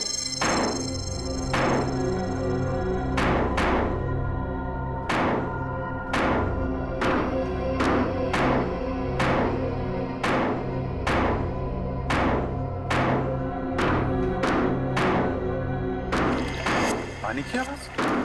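Repeated heavy blows digging and breaking open a buried water tank, roughly a dozen evenly spaced thuds and knocks close up, with a denser clatter near the end and music-like tone under the impacts.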